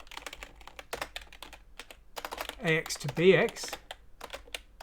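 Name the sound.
typing on a computer keyboard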